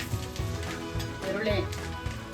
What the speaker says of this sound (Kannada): ಈರುಳ್ಳಿ ತಾನೆ, ಆನಿಯನ್ ಅಂತ ಮತ್ತೆ ಚೆನ್ನಾಗಿ ಫ್ರೈ ಮಾಡ್ಕೊ